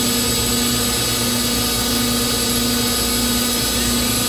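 A helium leak detector's vacuum pump runs steadily with a strong, constant mechanical whir and tonal hum that holds level throughout, loud and close, with no talk over it.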